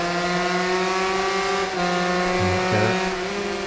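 An Aprilia RS125 two-stroke racing motorcycle laps Cadwell Park in the RIDE 3 video game, its engine a loud, steady, high-pitched drone throughout with brief shifts in pitch near the end and no talking.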